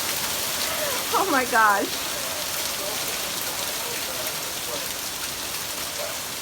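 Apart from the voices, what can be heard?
heavy rain falling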